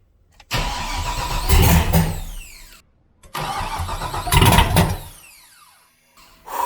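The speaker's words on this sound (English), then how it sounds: "I'm just gonna see if she'll fire up and run." A sloppy turbo project car running on manifolds only cranks and fires up twice, each time roaring loudly for a couple of seconds with revs rising and then cutting out, followed by a brief third start at the end.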